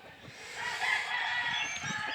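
A rooster crows once in brood pens, a single drawn-out call rising and holding, moderately distant over faint background rustle.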